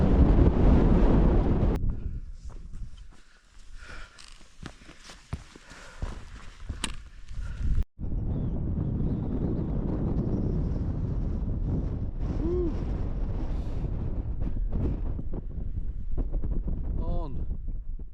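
Strong gusts buffet a microphone on a windy fell summit near Pillar and Scoat Fell, a loud, rumbling roar that eases briefly and then returns steadily while people talk.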